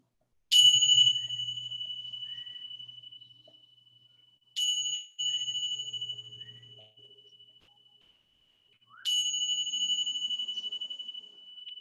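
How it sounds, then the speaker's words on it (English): Three bell or singing-bowl strikes close a yoga session, each a bright metallic ding with a long, slowly fading ring, spaced about four seconds apart, quiet and alone with no talking. "let the sound of the bells gently guide you back to your physical position"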